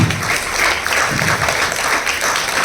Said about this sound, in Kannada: ಅವ್ರಿಗಾಗಿ ಒಂದು ಜೋರಾದ ಚಪ್ಪಾಳೆ